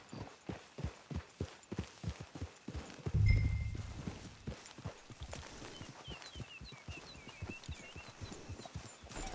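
Horse hooves clip-clop at a steady walking rhythm in a PS4 video game, close and clear throughout, with a brief dull thump partway through and no talking.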